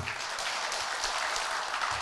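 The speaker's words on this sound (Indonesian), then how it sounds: "Tepuk tangan buat Ibu Santi" A studio audience at a Ramadan religious talk show applauds for a guest, giving a brief, even wash of clapping that sits at a fairly low level throughout.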